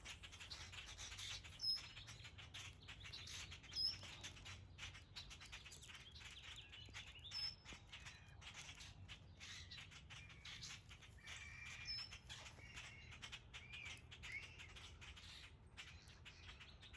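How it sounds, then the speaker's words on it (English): Birds in a backyard in winter chirp and tweet faintly against a steady low hiss, with a few brief, slightly louder calls scattered through a long, quiet stretch and no talking. "please enjoy the sounds of all the birds in my backyard while I fold my dried clothing"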